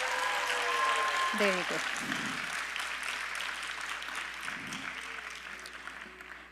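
An audience claps for a classical orchestra at a dance program, a steady broad wash of applause filling the whole stretch while a nearby voice speaks briefly over it.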